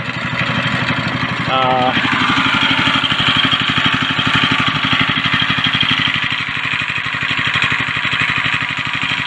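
A go-kart's small engine idles steadily and continuously up close, its rhythmic putter loud throughout as the centrifugal clutch engages, with a brief higher whine near the start.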